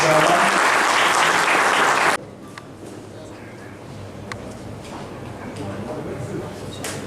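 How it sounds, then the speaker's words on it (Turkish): Loud, dense applause for students at a Nizip Commodity Exchange education-support event breaks off abruptly after about two seconds, leaving scattered clicks and soft room noise. "Öğrencilerimize yürekten bir alkış rica ediyoruz."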